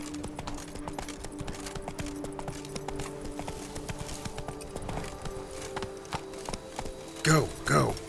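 Hooves of the horse Roach clip-clop steadily in Witcher 3: Blood & Wine, a close rhythmic trot over a game soundtrack and ambience, followed near the end by two brief louder vocal bursts.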